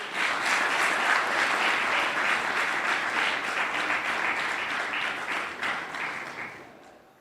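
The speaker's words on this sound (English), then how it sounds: "So you have to give a better clap for him to come out from backstage." Sustained audience applause at a live international film and TV festival and awards event, loud dense clapping from a crowd that holds steady for several seconds and then gradually thins out.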